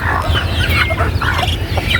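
Several chickens clucking and murmuring close by over a low steady hum, a continuous busy chatter, in a rural provincial yard.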